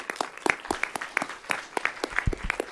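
Scattered clapping from a conference audience after a panel of speakers, distinct individual claps in an irregular patter, moderately close and not very dense.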